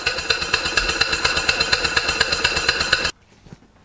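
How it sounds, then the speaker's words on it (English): A small Stuart model steam engine runs on compressed air with a quick, even chuff and knock, steady and close, then cuts off abruptly, leaving faint rattles. "The engine's designed to run at 1000 RPM"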